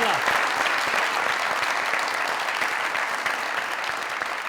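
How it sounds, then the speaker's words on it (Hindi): A studio audience claps steadily for several seconds on a Pakistani comedy talk show, a dense even round of applause that holds at full strength and tapers only slightly at the end. "इनकी खूबसूरती के लिए एक बार तालियां जी।"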